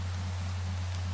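Rain falls in the Minecraft video game as a steady, even hiss of drops, with a constant low electrical hum beneath it.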